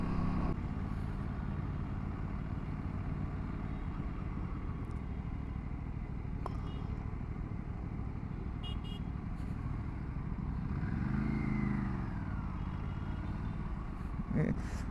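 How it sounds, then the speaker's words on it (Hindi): An Aprilia motorcycle being ridden, its engine a steady, close drone under road and wind noise, with the pitch swelling and falling briefly near the end. "It's been a while man since I've been on an Aprilia."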